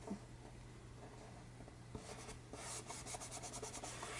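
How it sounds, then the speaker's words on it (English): A paper storage piece made for junk journal supplies gets a firm rub, a faint, steady scraping at close range that turns rougher and more textured partway through. "going to just give this a good rub."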